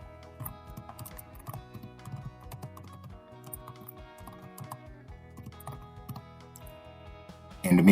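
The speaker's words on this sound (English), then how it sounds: "Within the body, we can type some text." Typing on a computer keyboard while entering text into a code file: quick, irregular bursts of light key clicks, close and fairly quiet, with a faint tonal background throughout and a louder thump right at the end.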